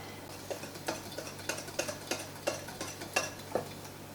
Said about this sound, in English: You can see as I'm stirring this